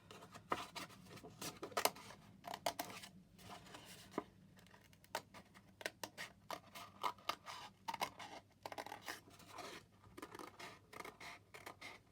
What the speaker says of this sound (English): when I cut this out, I'm just going to cut it slightly outside that line